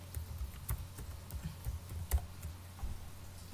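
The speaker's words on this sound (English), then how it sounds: "Here I'm going to type a word," A word is typed on a computer keyboard: a dozen or so soft, evenly spaced key taps, close and quiet, with no one talking.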